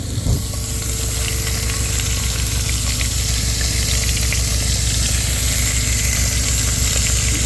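A pound of hamburger meat sizzles as it browns in a 3-quart Instant Pot, a loud, continuous frying hiss that starts after a brief clatter and holds steady throughout, close up with no voices.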